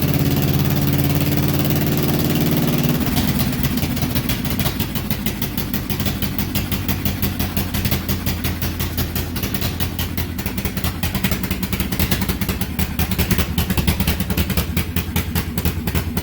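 A John Deere LA lawn tractor engine, run without its radiator fitted, cranks and catches after a few seconds, then settles into a steady, loud, close idle with a rapid even putter that continues alone.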